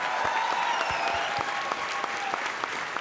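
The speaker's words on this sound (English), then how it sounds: "Guys, help me give a round of applause to Recharge with Milk" Crowd applause at a Toronto Raptors championship and birthday celebration event, steady dense clapping filling the whole stretch with a few sharper claps standing out, loud and close, with faint tonal sounds and no talk over it.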